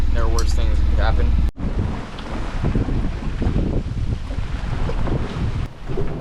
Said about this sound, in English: I just got enough wind to sail